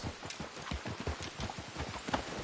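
Horse hooves clip-clop steadily at a walking pace in Red Dead Redemption 2, a close, even rhythm of repeated hoof strikes continuing throughout with no talk.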